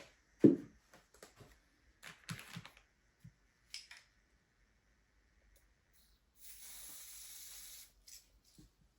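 An Amaco Sprayz sprayer gives a short, steady hiss of spray lasting a second or two, preceded by a few scattered clicks and handling taps, close and fairly quiet.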